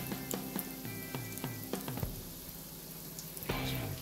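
Cheese balls sizzle steadily in hot frying oil, with several sharp crackles and pops standing out over a constant bubbling hiss, close and fairly loud throughout.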